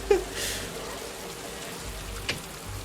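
Rain falls steadily outside during a party scene in the game Heavy Rain, a soft continuous hiss with a couple of brief sharper drops, heard alone at moderate level.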